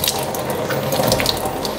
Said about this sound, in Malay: biarkan air hijaunya itu terus mengalir dan jatuh